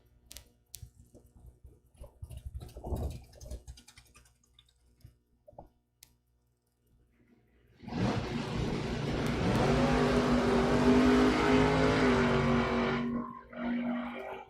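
Drag racing cars, one of them a Mustang, at Mid America Dragway: faint clicks and a distant rumble give way to a loud engine roar that launches and holds for several seconds, then cuts off abruptly.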